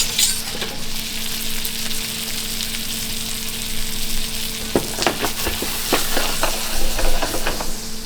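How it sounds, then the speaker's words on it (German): Butter sizzles and crackles in a frying pan close by, with a steady hiss and bursts of sharp pops and scraping as the food is stirred. "Butter ist noch in der Pfanne."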